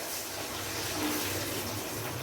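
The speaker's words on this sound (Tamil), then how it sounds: "இது வந்து நம்ம ஒன்று தண்ணி சேர்த்தாச்சு இது வந்து அளவு தண்ணியில் தான் சேரும்" Water is poured into a cooking pot for Kashmiri pulao, a steady, even rushing splash lasting a couple of seconds, heard alone.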